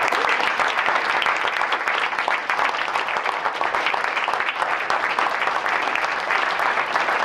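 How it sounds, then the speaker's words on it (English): An audience at a school board meeting applauds with dense, sustained clapping that stays loud and even from start to finish, with no talking over it. "we want to give you all a round of applause for supporting these amazing kids"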